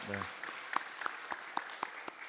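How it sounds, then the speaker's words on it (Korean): Scattered applause from a church congregation for newly ordained deacons, a handful of distinct claps in loose rhythm following a brief voice at the start. "안수 집사님들에게 사랑과 격려 의 박수 한 번 더 보내주시기 바랍니다"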